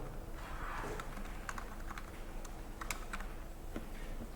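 Commands are typed on a computer keyboard in a terminal, a quick irregular run of clicking keystrokes heard up close over a low steady hum.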